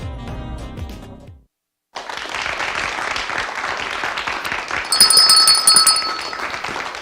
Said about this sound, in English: I've been ringing this bell for years.